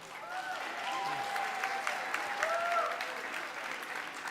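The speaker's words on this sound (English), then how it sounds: "Let's give one more round of applause for Christy O'Rourke." Audience at a college convocation applauds, a steady, full wash of clapping sustained for over four seconds, with faint whoops and a voice rising briefly above it.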